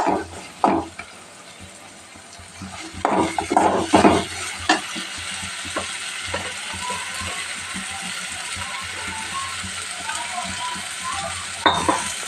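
Moong dal and fenugreek leaves sizzle steadily in hot oil in a pan, a continuous close frying hiss broken by louder bursts and scraping clatter as the mixture is stirred.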